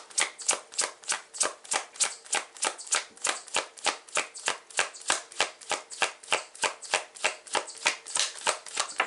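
Tarot cards are riffled and shuffled in a fast, even rhythm of crisp papery bursts, close and loud, with no talking.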